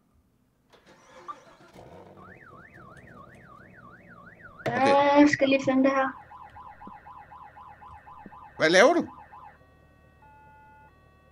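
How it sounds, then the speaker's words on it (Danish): Car alarm in the Roblox Vehicle Simulator game, a rapidly warbling electronic tone repeating in quick cycles, broken by louder noisy bursts near the middle and end, with voices talking over it. "Hvorfor er der gang i alt det? Det er alarm."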